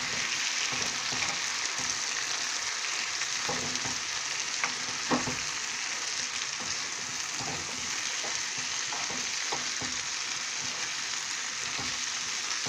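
Rice, beans and vegetables stirred in a hot pan, a steady sizzle with intermittent scraping clicks of the utensil, close and continuous without speech.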